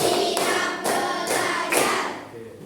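An elementary school class at SD Negeri 30 Tanjungpandan claps a short rhythm pattern together, a few broad group bursts of hand claps in a classroom, fairly close and loud with no talking over them.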